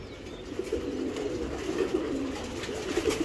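A pair of Indian pigeons coos in soft, repeated low pulses, close and moderately quiet, over faint background hiss.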